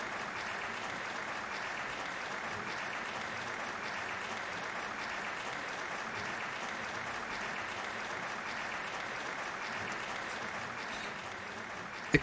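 Repetitive looped applause sound effect in the video game Trails of Cold Steel, a steady, even wash of many clapping hands lasting throughout, unchanging in level, with a brief sharp sound at the very end.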